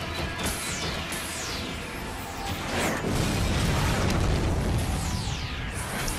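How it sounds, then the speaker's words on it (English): Repeated booming explosions in the video game Zone of the Enders: The 2nd Runner, with whooshing, falling sweeps, dense and rumbling throughout, with heavier blasts in the second half. "Explosions!"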